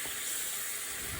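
A thin layer of water steams dumplings in a covered pan, giving a steady, even hiss close by with no pauses and no voices.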